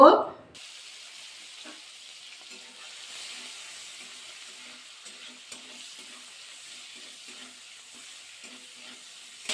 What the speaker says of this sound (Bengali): চিংড়ি মাছটা অ্যাড করে দেবো তেলের মধ্যে দিয়ে নাড়াচাড়া করে ভাজা করে নেব